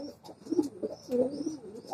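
A white racer pigeon, recently recovered from illness, coos in a few soft throaty rolls, close and fairly quiet, with short pauses between phrases.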